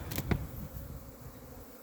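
A faint buzzing of honeybees making their cleansing flight around hives in an apiary at about 14°C, with a brief louder whoosh as one passes close, over quiet outdoor background.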